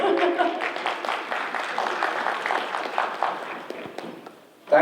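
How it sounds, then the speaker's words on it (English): A crowd at an American Hindu Coalition Diwali celebration applauds for Ambassador Kapoor: dense, steady clapping fills the whole stretch, with a sharper burst right at the end. "Everybody, clap for yourself. You've done a great job. And now clap for Ambassador Kapoor."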